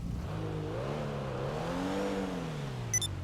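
Pfister Comet Retro Custom car in GTA 5, fitted with a turbo, race transmission and lowered suspension, revs with a rising and falling engine whine, steady and fairly close, with a short bright chime near the end.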